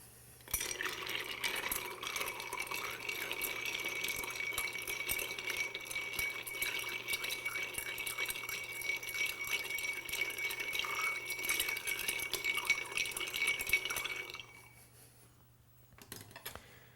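A bar spoon stirs an Old Pal cocktail over ice in a mixing glass, a steady, close clinking and swirling rattle that runs on evenly, then stops, leaving quiet.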